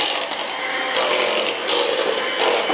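Cream cheese and butter are whisked together in a bowl, making a close, steady scraping rush with faint rhythmic surges throughout.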